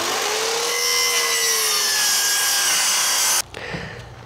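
A hand saw cuts through old wooden roof boards on a 170-year-old house under repair, with steady close rasping strokes that stop abruptly near the end, followed by a brief scrape.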